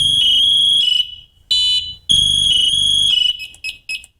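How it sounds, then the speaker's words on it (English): A firefighter's SCBA manual alarm, set off with the red button, sounds as loud, shrill electronic chirping tones that repeat in bursts, then cut into short, quick beeps toward the end. "The red button on the front is our manual alarm button."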